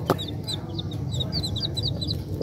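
Backyard flock of chickens and chicks on a desi poultry farm, with soft repeated clucks and high peeping chirps scattered steadily throughout, close by over a low outdoor hum.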